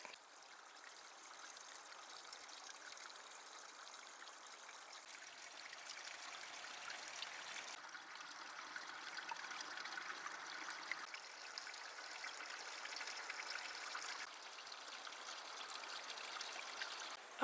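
Water trickles and burbles steadily from a small spring, a soft, continuous flowing sound close by with no other noises.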